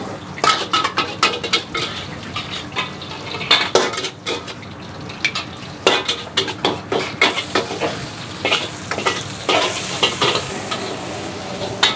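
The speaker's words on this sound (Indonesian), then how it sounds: "Gua sekarang bakal lanjut bikin nasi goreng seafood sebanyak 3 porsi, teman-teman." Seafood fried rice being stir-fried in a pan for three portions, with steady sizzling and frying under a rapid run of metal spatula scrapes and clatters against the pan, close and busy throughout.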